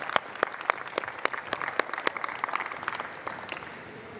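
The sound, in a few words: round of applause for the group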